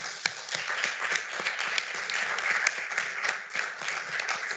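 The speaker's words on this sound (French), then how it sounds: "Merci à eux, on peut les applaudir." Audience applause for the speakers at the close of a general discussion session, a steady moderate wash of many hands clapping together, with a few sharper individual claps standing out.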